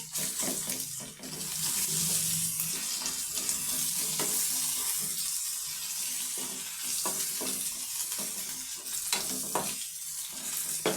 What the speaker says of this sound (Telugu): అల్లం వెల్లుల్లి పేస్ట్, పసుపు వేసుకొని కలుపుకోవాలి.